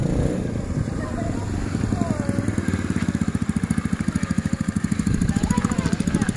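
A mini trail motorbike ridden by a child chugs with a rapid, pulsing single-cylinder putter that grows steadier and louder, close by, while people talk over it.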